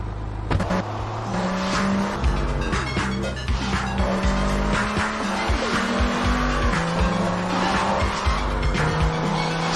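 Tires squeal and skid in GTA Vice City Stories, a loud continuous screech over roaring car engines and game music, with no talk.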